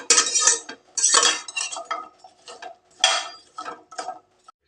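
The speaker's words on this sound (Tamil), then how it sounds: "அடுப்பில் ஒரு பாத்திரம் வச்சுருக்குறேங்க." A cooking pot set down on a stove for okra masala, several sharp metallic clanks and clatters in irregular bursts, close by and fairly loud.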